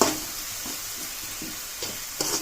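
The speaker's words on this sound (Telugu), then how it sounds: "బాగా వేయించుకోవాలి" Gongura chicken frying in a pan makes a constant close sizzle and hiss, with a few brief scraping stirs partway through and near the end.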